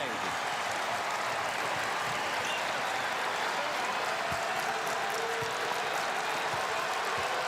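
Basketball arena crowd in Columbus at an Ohio State versus Illinois NCAA game, a steady broad roar of cheering and noise filling the space throughout, loud and continuous with no clear breaks.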